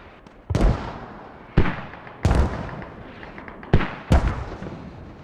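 Mortar rounds land in the Squad video game during a CHORA skirmish, five sharp booming blasts at irregular intervals, each decaying into a rumbling tail, moderately loud with no talk.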